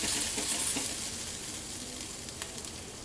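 Continuous close sizzle as ginger-chili paste, cumin, turmeric, red chili and coriander-cumin powder are stirred in hot ghee in a kadai, with faint spoon scrapes over the hiss and no talk.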